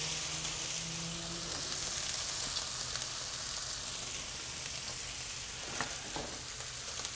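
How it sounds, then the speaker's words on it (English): Continuous crackling sizzle of bacon frying on a flat-top griddle, steady and close, with occasional small pops. "Listen to that sizzle."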